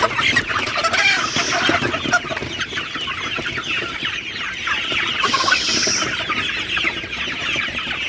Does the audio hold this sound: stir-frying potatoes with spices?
no